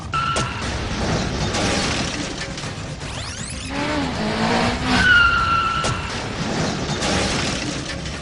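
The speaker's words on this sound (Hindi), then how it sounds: "दोनों के हिस्से में इंतहाई खतरनाक हादसा आया" Two motorcycles at top speed collide in a road crash caught on CCTV, with loud roaring engine noise, a skidding screech and a harsh impact clatter with shattering, carrying on in a steady rush of traffic noise.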